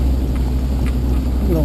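Four-wheel-drive vehicle crawling in low gear along a wet access road, a steady low engine rumble close by with people talking over it.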